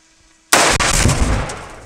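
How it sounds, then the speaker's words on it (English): A single sharp AR-15 rifle shot strikes a propane tank after a half-second of quiet, triggering a loud, sustained roaring burst that rumbles on and slowly fades. "Just shoot exactly where the flare is, just lower."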